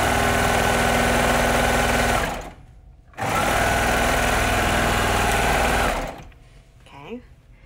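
A sewing machine stitches the curved hood seam of a shirt in two steady, fast-whirring runs, with a short pause between them, before stopping into near quiet.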